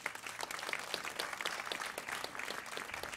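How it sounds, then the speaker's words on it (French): An audience at a recital applauds the musicians, a continuous patter of many hands clapping at moderate volume, slightly distant and steady throughout. "on les applaudit"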